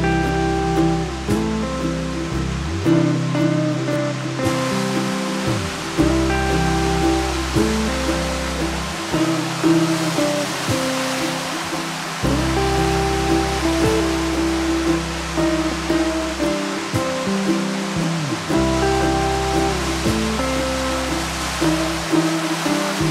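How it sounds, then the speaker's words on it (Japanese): Sea waves wash against a rocky shore at Arasaki Park on the rugged Miura Peninsula coast, a loud continuous surging roar with swells rising and falling, heard alone over a low steady rumble. "こう波がザザーンとなって"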